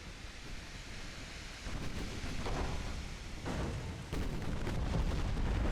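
A torpedo strike in the naval warfare game Ultimate Admiral: Dreadnoughts gives a deep rumbling explosion over a roar like surf, swelling in a few heavy bursts with no voices.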